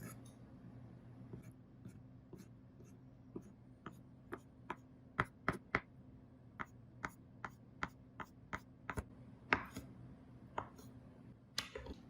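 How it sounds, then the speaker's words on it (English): A knife finely chopping sushi ingredients on a board: a quiet series of crisp irregular taps and cuts, sparse at first then quickening, close but faint over a low steady hum. "we are also gonna finely cut this up"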